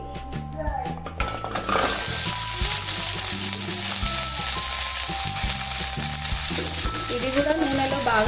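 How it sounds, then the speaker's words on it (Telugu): Chopped ivy gourd dropped into hot oil in a kadai, giving a strong steady sizzle and crackle that starts abruptly and continues loud throughout, with faint musical tones in the background. "ఆయిల్ హీట్ అయ్యాక మనం ఆల్రెడీ కట్ చేసి పెట్టుకున్న వెజిటేబుల్స్ ఏదైతే దొండకాయ అని అనుకున్నామో అది వేసుకుందామండి"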